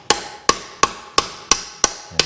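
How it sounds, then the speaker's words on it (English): A hammer strikes a socket to drive a valve guide out of a Mercury flathead engine: six sharp metallic blows at a steady, roughly even rhythm, close and loud, with no talking. "Take your hammer, beat that backwards in there."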